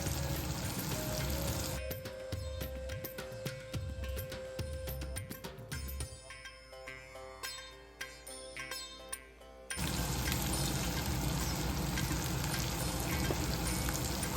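Okra with chickpea flour sizzles in hot oil in a pan while being stirred, a steady crackling fry interrupted midway by scraping and clinking of the spoon against the pan before the loud sizzle resumes.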